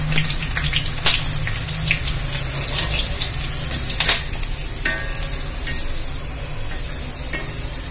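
Homemade cluster bean (kothavarai) crisps fry in hot oil with a steady, loud sizzle, broken by occasional sharp crackles and stirring scrapes, close up with no talking.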